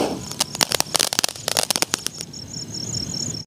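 A seven shot Diwali firework goes off close by, a rapid burst of sharp cracks and pops followed by a fizzing, sparkling crackle before it cuts out.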